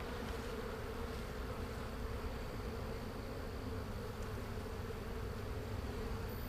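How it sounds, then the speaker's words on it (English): A dense, steady swarm of honeybees hums continuously around an open hive during an inspection, a constant close buzz with no speech. "amount of bees I see over here"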